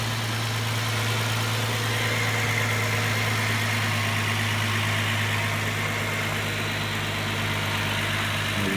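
A 2006 Infiniti G35 coupe with a Stillen intake idles steadily, a continuous close, even engine drone with a strong low hum and no talking.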